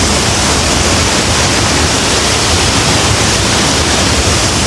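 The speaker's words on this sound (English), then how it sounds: "This waterfall is gorgeous." La Fortuna Waterfall in Costa Rica roaring steadily nearby: a dense, unbroken broadband rush of falling water with no pauses.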